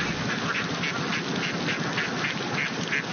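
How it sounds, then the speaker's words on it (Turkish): A flock of ducks crossing a road through traffic, quacking repeatedly in a steady, overlapping stream at moderate distance over constant outdoor background noise. "Ördeklerin geçit töreni trafiği durdurmaya yetti."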